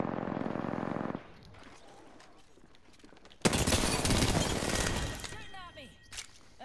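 Gunfire in a video game, a loud burst of shots erupting midway after a quieter stretch and ringing on for a couple of seconds, with a voice talking at the start.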